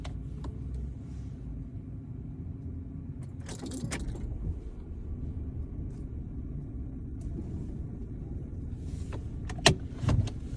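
A car idles quietly before reversing out into traffic, a low steady engine rumble with occasional jingling keys and clicks inside the cabin, and a sharper clack near the end.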